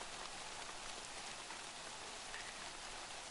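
Steady rain in the DayZ video game, a dense continuous hiss of drops falling on surfaces, fairly loud and unbroken throughout with no talk over it.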